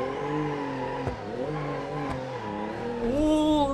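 JBX 100 car in BeamNG driving around a parking garage, its engine droning and revving through gear changes, pitch sliding up and down, with a louder rev climbing near the end.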